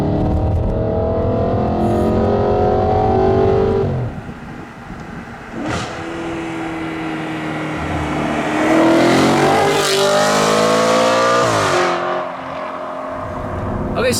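A 2013 Audi RS5's naturally aspirated V8 revs hard and close, its deep harmonic roar climbing in pitch, dipping briefly, then surging again into a second loud rising pull before easing off.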